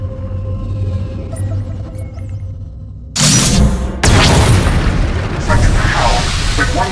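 Flux cannons from Star Wars: The Old Republic blasting an Imperial capital ship: a quiet hum gives way to a sudden loud booming burst, then a second, heavier explosive roar that sustains and rumbles to the end.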